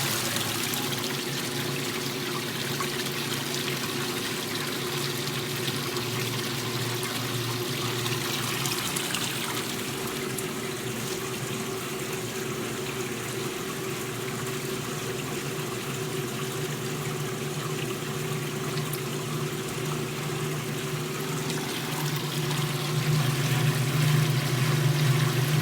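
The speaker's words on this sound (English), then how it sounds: "See them both discharging water." Maytag washing machines pump out their discharge water in a continuous, even gush and trickle with a low motor hum beneath, steady throughout.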